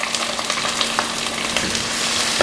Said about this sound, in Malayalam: ഉള്ളി നന്നായിട്ട് വഴറ്റി കൊടുക്കുക.